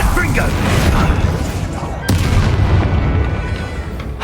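A Confringo blasting spell explodes during a fight in Hogwarts Legacy, a loud booming blast amid continuous roaring combat noise, with a sharp crack partway through and voices shouting spells over the din.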